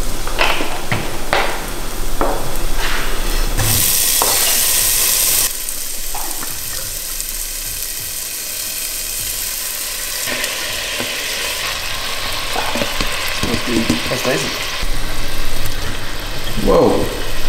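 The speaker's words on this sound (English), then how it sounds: "So that's the spring onion, garlic and ginger for the stir fry in the oil." Spring onion, garlic and ginger frying in oil for a stir fry give a steady, close sizzle that carries through the whole stretch with occasional stirring clatter, while a voice talks over it at times.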